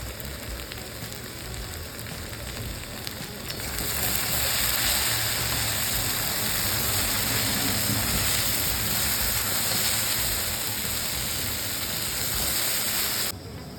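Cumin and coriander sizzle steadily in hot oil, a dense crackling hiss that swells after a few seconds and holds evenly until the end.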